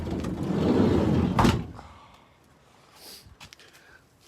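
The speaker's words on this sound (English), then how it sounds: "if I can get this door open" A van door is wrenched open with a loud rattling scrape that ends in a heavy clunk, followed by a few quieter knocks and clicks as it settles.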